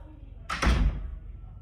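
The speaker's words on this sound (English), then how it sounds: "you can see we can actually come by and shut the door" A door to an indoor golf practice bay swung shut, one short whoosh ending in a solid, heavy thud nearby.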